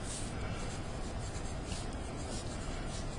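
A pencil writes on graph paper, a steady close scratching rub that continues without a break for a few seconds, with no voices.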